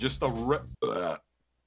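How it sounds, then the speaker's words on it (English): A long, loud throaty burp from a man, close and voiced, rolling in two pulses before cutting to silence. "God damn it, I had a burp"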